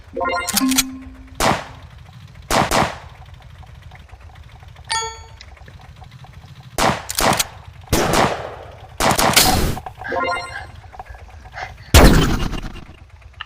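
Tank cannon fire from the video game Tank War comes in loud, separate bursts, about eight sharp shots spaced across the stretch with metallic pings and quiet gaps between them.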